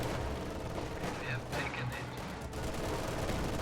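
Rifle squad gunfire in a real-time strategy battle, a steady crackle of distant small-arms shots layered under continuous background battle noise, with a few louder bursts midway.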